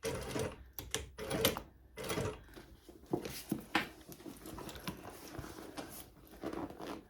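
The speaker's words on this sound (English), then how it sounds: "I'm just using the edge of the presser foot there as a guide as I'm stitching along" A sewing machine stitches along the folded edge of a handbag lining, running in short uneven bursts with pauses as the fabric is guided by hand, close and moderately loud.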